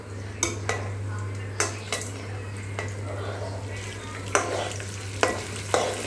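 A utensil scrapes and knocks against a pan as popcorn is stirred over the heat, irregular metallic clinks over a steady hiss and a low hum, with a voice faintly in the background.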